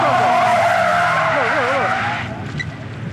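Truck sliding with its tires skidding and squealing at a street takeover in Minneapolis, a loud sustained wavering screech with engine roar that fades off after about two seconds, with a voice mixed in.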